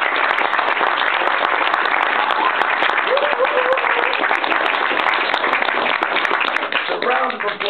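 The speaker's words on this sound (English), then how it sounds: "A round of applause." An audience claps loudly and steadily at a film Q&A event, with dense continuous applause and a few voices and cheers mixed in.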